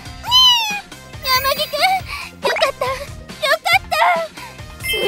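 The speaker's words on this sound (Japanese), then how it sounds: "猫？" A cat meows repeatedly in rising and falling wails, several calls in close succession at close range, mixed with voices speaking.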